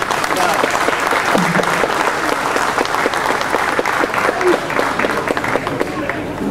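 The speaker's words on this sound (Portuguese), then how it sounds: "Acho que merece um grande aplauso também da nossa parte." An audience at a folk singing tribute event applauds loudly and continuously, a dense wash of many hands clapping with crowd noise and some voices mixed in.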